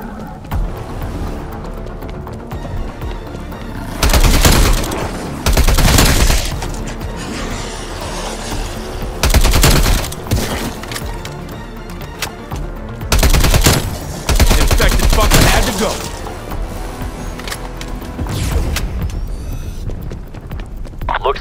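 Call of Duty: Black Ops Cold War firefight with a strike team: loud automatic gunfire in several long bursts separated by quieter stretches of ambient combat noise.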